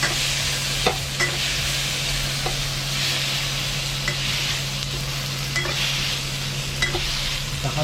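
Egg and tomato stir-fry being stirred in a pan, with a steady loud sizzle of hot oil and spatula scrapes clicking against the pan at irregular intervals, no voices.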